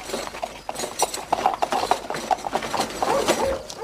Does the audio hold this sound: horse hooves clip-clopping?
yes